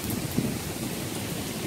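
Steady outdoor rain during a thunderstorm with lightning, a dense broadband hiss of falling water with a faint low rumble beneath, continuous and moderately loud with no voices.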